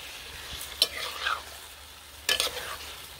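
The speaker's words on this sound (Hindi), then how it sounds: "अभी हम कढ़ाई में डाल लेंगे मैरिनेट किया हुआ चिकन। चिकन को एक दफ़ा मिक्स करेंगे।" Marinated chicken frying in a kadai with softened tomatoes, a steady sizzle broken by two distinct scraping stirs about a second and a half apart, close and clear with no talk.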